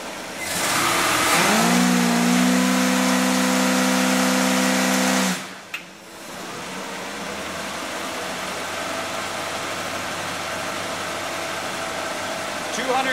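A 305 engine revs hard against the trans brake on a transmission dyno, heating the torque converter; a loud sustained roar with rising pitch holds for about five seconds, then cuts off sharply, leaving a quieter steady hum of the rig.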